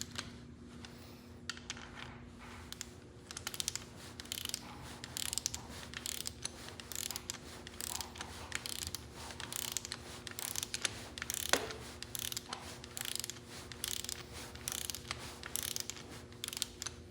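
A ratchet torque wrench tightening connecting rod bolts on a 400 small-block Chevy bottom end, a steady run of close, crisp clicking strokes with a faint hum underneath and one sharper click near the middle.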